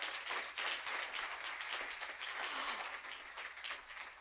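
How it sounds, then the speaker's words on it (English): At a business conference, an audience claps for a prize winner, a fairly faint and distant wash of steady applause that carries evenly throughout. "Let's give Brian a big round of applause"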